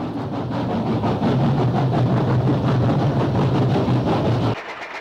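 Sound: steam locomotive 3818 hauling the Central West Express

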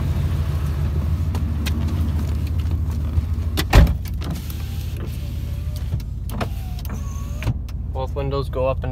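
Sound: car power windows going up and down

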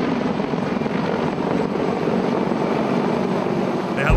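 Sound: CH-53K King Stallion heavy-lift helicopter flying

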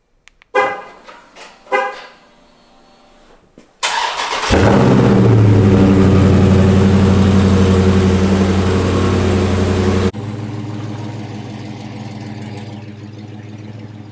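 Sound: Dodge Charger Scat Pack car engine

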